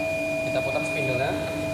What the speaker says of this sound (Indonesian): Kita putar spindle-nya.